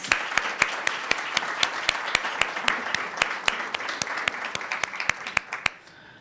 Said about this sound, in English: Let's give another round of applause for all round 3 competitors.